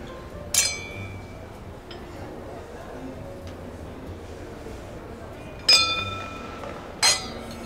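Glasses clinking together in a celebratory toast, three short bright clinks spaced apart over a quiet room background.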